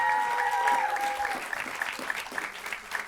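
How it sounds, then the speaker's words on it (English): Applause from a public event audience as panelists walk to the stage, dense clapping with a brief tone at the start and some voices mixed in. "give them a round of applause as they make their way to the stage"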